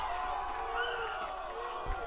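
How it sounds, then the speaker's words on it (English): Crowd at a girls lacrosse night game against St. Francis Prep gives a broad, sustained roar of cheering and shouting, steady and moderately loud, heard from the field as a wash of many voices. "Oh, you gotta love the crowd energy on that one."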